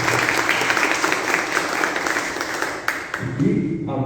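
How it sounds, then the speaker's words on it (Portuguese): A round of applause from attendees gathered at a parish Family Week talk, a broad steady clatter of many hands that thins out near the end as a voice begins speaking. "Uma salva de palmas."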